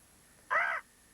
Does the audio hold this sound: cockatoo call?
yes